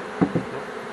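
Honey bees buzz close around a beehive honey super fitted with a bee escape, a low steady hum broken by two quick louder buzzing bursts.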